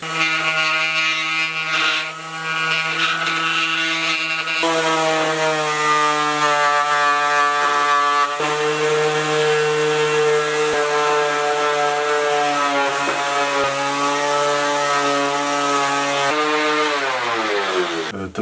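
A Ryobi battery random orbital sander working over the surfaces of a wooden stool, a loud continuous motor whine with a strong steady drone and pitch that shifts slightly as pressure changes, alone without talking.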